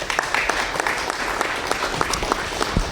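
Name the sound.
applause for Officer John Mickelson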